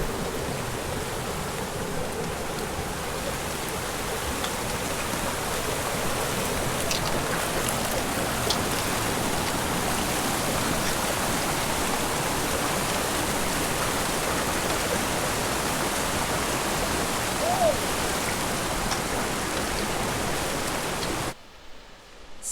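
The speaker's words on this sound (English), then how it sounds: "Super, super cool waterfall out in the distance there." Steady rushing water roar of a waterfall, a constant broadband hiss with no breaks, cutting off abruptly at the very end.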